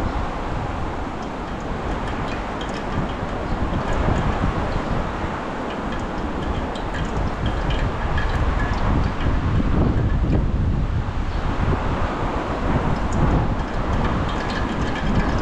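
Constant rushing wind buffets the microphone, loud and unbroken, with a rumbling undertone throughout, on the way to a tilapia island.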